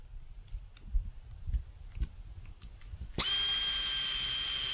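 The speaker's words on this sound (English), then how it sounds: "And now I'm going to drill a 3/8 hole." A 3/8 hole is drilled in a Sprinter van roof: faint handling noises, then a power drill starts abruptly and runs steady and loud for the last seconds.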